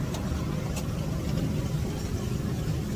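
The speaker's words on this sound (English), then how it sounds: "This is the train ride in that miniature village which you must take." Steady low engine drone of a miniature village train ride, a continuous mid-level rumble running evenly with no talk.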